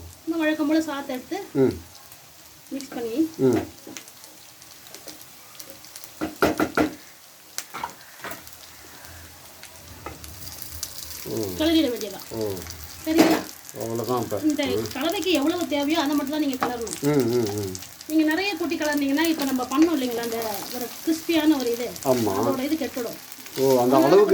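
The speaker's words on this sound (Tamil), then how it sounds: "சாதத்தை எடுத்து மிக்ஸ் பண்ண வேண்டியதான் நீங்கள் ஏற்கனவே ரெடி பண்ணி வச்சிருந்த சாதத்தை அதில் போடணும்" Cooked rice being stirred into a coconut mixture in a hot frying pan for coconut rice, with a steady sizzle and scraping stirs throughout under nearly continuous talking.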